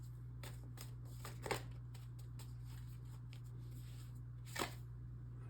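A tarot deck is shuffled close up as a run of soft, papery riffles and flicks, with two sharper snaps of cards along the way, over a low steady hum and with no one talking.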